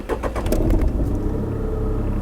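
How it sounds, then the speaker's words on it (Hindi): A Tata Tiago's engine cranks and catches, heard from inside the cabin, with a loud stuttering start that settles into a steady low idle rumble, no voices over it. "तो अभी आप सुनिएगा, मैं गाड़ी को स्टार्ट कर रहा हूँ।"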